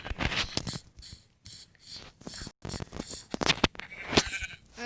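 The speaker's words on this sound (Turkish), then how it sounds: "O siyah koyun var. Sonra beyaz koyun var." Sheep in a survival video game bleat repeatedly in short, nasal cries, several overlapping calls with brief pauses between, fairly close and loud.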